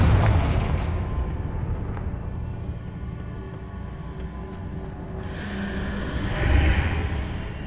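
A Confringo spell blast in Hogwarts Legacy booms loudly at the start and rumbles down into a low, decaying roar, followed by a fainter crackling swell later on, with no talking.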